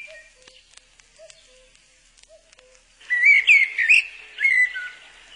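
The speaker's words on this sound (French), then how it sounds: "c'est un merle" A common blackbird sings outdoors near woodland: a few faint, scattered chirps at first, then a loud, rich burst of fluting, warbled phrases close by, with a short pause between two song phrases.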